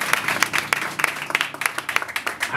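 A congregation claps in a rhythmic, fairly loud burst of applause, the hand claps falling in a regular beat with a faint voice underneath.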